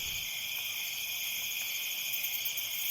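Crickets chirping outdoors at night, a dense, steady high-pitched trill layered in several bands, loud and unbroken throughout.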